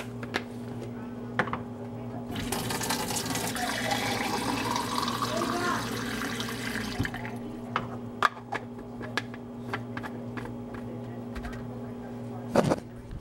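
Water gushes from a faucet for several seconds, then cuts off, followed by scattered clinks and light handling sounds nearby.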